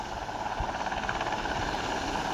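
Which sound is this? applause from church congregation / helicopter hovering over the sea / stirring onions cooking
helicopter hovering over the sea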